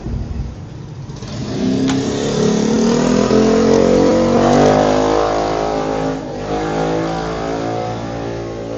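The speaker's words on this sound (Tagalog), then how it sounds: "Iingay ng motor" A nearby Mitsubishi 4G63 DOHC engine revs up and holds at a loud, rising drone, then eases back and revs again, running continuously throughout.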